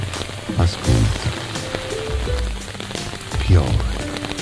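Steady rain falls and patters on a surface, a continuous hiss with a voice speaking softly over it at times.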